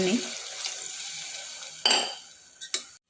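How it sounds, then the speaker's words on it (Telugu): Water pours and splashes into a metal pot of tomato rice with a few clanks of a vessel, close by, ending in short knocks. "ఇందులో కొన్ని వాటర్ వేసుకోవాలి"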